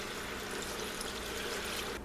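Chicken stock is poured into a pressure cooker pot as a steady, rushing splash that lasts about two seconds at a moderate level, with no talk.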